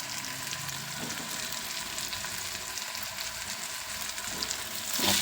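Chopped boiled eggs go into a frying pan for egg pulao and sizzle in a steady hiss, with faint stirring and a slight rise in noise at the end.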